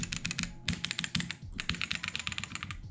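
Rapid typing on a mechanical keyboard fitted with red switches, in a home desk setup: a continuous run of close, crisp keystrokes in quick irregular bursts, with no voices.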